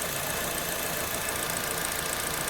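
A 2008 Chevrolet Vectra Elite 2.0 runs steadily at idle after a timing-belt repair, giving a continuous close engine hum with faint ticking texture and no talk.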